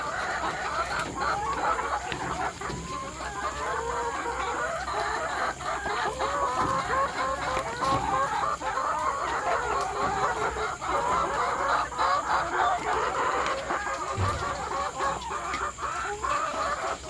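Laying hens cluck steadily at close range while being fed greens in an evening-lit coop, a continuous overlapping chorus with occasional louder calls over faint background noise.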